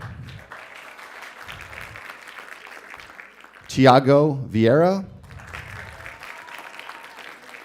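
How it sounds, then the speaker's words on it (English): Audience applause at a Board of Education action meeting, clapping for congratulated participants as a man reads out names over a steady, moderate patter of hands that runs beneath his voice. "Round of applause, gentlemen."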